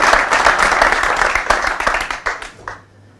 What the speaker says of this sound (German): Muss man, glaube ich, ganz kräftig einen Applaus an euch spenden.